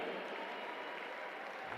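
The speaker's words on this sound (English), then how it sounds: "As the lights go out, the crowd welcome the players to the floor." Sustained crowd applause fills an arena as players are introduced onto the floor before a EuroLeague Women basketball game between DVTK HUN-Therm and Casademont Zaragoza, a dense, even clapping at moderate distance.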